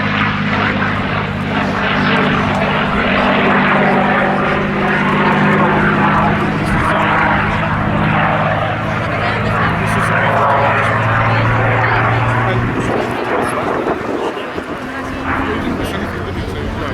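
A Packard-engined North American P-51 Mustang flies at the Cosford Air Show, its propeller engine a loud, steady drone throughout. An announcer's commentary plays over the engine noise.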